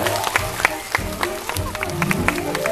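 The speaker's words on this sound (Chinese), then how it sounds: "掌声给他们鼓励" A studio audience on a television variety show applauds, with scattered sharp claps and cheers blending into a lively crowd clatter over a few seconds, close and moderately loud.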